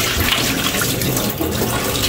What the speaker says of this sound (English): I've just given it a second rinse.